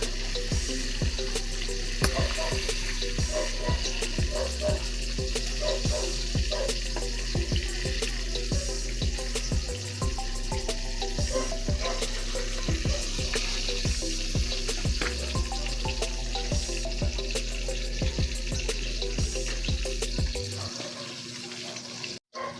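Food sizzles and crackles steadily in a hot pan, with intermittent clinks and stirring sounds over a constant low hum.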